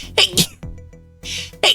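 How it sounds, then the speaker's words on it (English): Several sharp, forceful sneezes burst out close by, spaced over a couple of seconds with quieter breaths between them. "I gotta sneeze."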